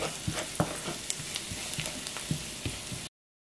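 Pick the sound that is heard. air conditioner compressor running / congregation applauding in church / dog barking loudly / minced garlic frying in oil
minced garlic frying in oil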